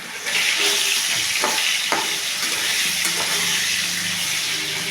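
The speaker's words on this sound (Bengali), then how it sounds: "আর এদিকে একটু মাছের ঝোলের আলু ভাজছি" Potatoes for a fish curry fry in hot oil in a home kitchen, a steady close sizzle and hiss with occasional stirring scrapes throughout, with no talk.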